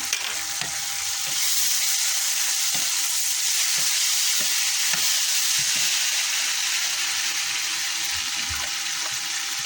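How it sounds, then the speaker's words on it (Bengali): Spices frying in oil with turmeric stirred in for a koi fish curry: a loud, continuous close-up sizzle with soft intermittent stirring knocks and no voices. "হলুদ সামান্য নেড়ে নেব।"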